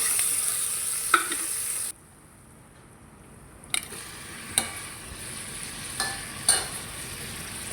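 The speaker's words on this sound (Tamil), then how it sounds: "இப்போ வெங்காயம் ஓரளவுக்கு வதங்கியாச்சு. இந்த ஸ்டேஜில் நம்ம தக்காளியை சேர்த்துடலாம்." Onions, tomatoes and dried chillies sautéing in a pan: a sizzling fry that cuts out briefly, then returns with scattered stirring scrapes and clinks, close and alone without speech.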